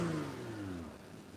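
A car engine revs and falls away, its exhaust back box blowing with a rough, breathy rasp; a single fading rev heard faintly and briefly, tone sliding down as it settles.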